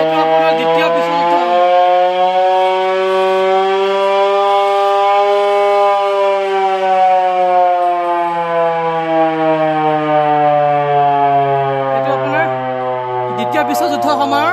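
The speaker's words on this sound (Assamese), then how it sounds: "বিশ্বযুদ্ধ সময়ৰ এইটো এটা চাইৰেন হয় সেইখিনি সময়ত যুদ্ধ লগা সময়ত এইদৰে চাইৰেন বজাই" A World War II air raid siren wails loud and close, its long rising-and-falling tone sliding slowly downward over many seconds, alone and continuous.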